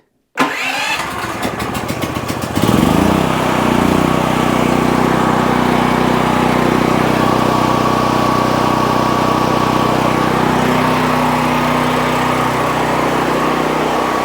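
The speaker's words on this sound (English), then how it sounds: "I go click the switch once to put it to ignition on for pull start, and then it's a momentary switch to hold it here to crank it." A Harbor Freight Predator 9000 watt generator cranks with a rapid rattling burst for a couple of seconds, then catches and settles into a loud, steady engine drone that runs close and unbroken to the end, with no talking.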